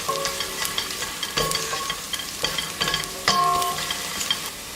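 Onions frying in olive oil with a teaspoon of salt, a steady close sizzle with scattered stirring scrapes and sharp utensil clinks against the pan.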